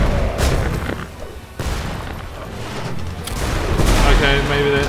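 A meteor death bomb spell in Magicka sets off booming, crackling blasts that rumble continuously through the clip, with a sharper burst midway and a swelling roar near the end, loud and dense, with talk mixed in.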